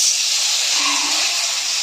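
Taro pieces that were salted earlier hit hot oil in a pan and sizzle with a steady, bright hiss that holds evenly throughout at close range.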